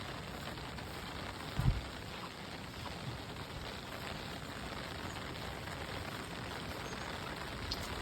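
Steady heavy monsoon rain falling outdoors in the Konkan countryside during traditional fishing, a constant dense hiss of drops with one brief thump near the start and no talking.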